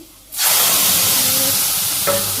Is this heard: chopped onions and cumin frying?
yes